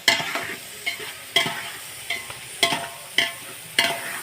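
Boiled soybeans fried in a pan with a soft sizzle underneath as a spoon scrapes and stirs them in regular strokes, roughly every half second, close and clear.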